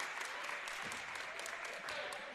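Players and coaches clapping on the Spring Valley bench during a high school boys basketball game against Glenwood City, scattered claps heard faintly beneath a gym's crowd murmur and some background voices.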